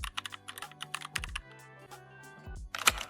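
A computer keyboard is pressed for CapCut shortcut keys on a PC, with rapid, close clicks and clacks in short bursts, a brief pause, then a final cluster of sharp key strikes.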